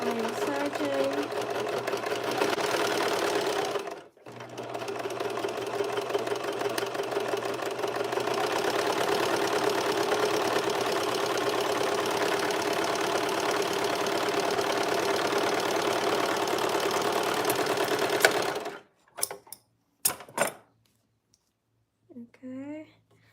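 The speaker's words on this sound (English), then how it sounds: "Okay, so I'm gonna put my lever down, put my foot down, and I'm serging." A serger sewing machine runs in a fast, steady mechanical whir for most of the stretch, briefly pausing once, then stopping near the end with a few soft clicks and handling noises.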